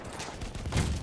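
Gunfire crackles through a Battlefield 1 firefight, a rifle shot among rapid overlapping reports and bursts packed into a single busy second of distant battle noise.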